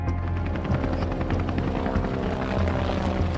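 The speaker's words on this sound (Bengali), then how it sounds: "তাকিয়ে দেখে যায় আকাশে 3টি হেলিকপ্টার ঘুরছে" Several heavy black helicopters circle overhead, their rotors throbbing in a loud, steady drone over a low rumble, with no voices.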